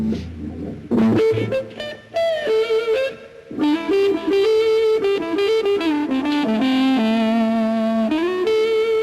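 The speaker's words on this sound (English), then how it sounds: "a kind of whining noise, usually described as woman tone" A distorted electric guitar with volume full up plays a bluesy lead with a dark, vocal-like whining woman tone, notes sustained and bending, loud and close.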